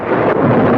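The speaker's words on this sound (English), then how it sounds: "More like a thunderstorm." Thunder from a thunderstorm over open country, a continuous low rolling rumble filling the whole short moment at steady loudness, with no voices.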